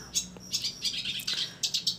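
Small Sinchan songbird placed into a cage where feed was set first, giving quick repeated high chirps and tweets in short bursts, close and moderately loud, with no talking.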